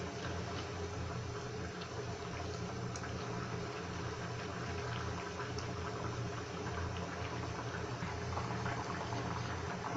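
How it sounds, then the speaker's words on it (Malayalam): A Kerala-style fish curry bubbles in a pot with a steady, even boiling burble and soft hiss that runs without a break. "കറി നന്നായി തിളച്ച് വരുന്നുണ്ട്."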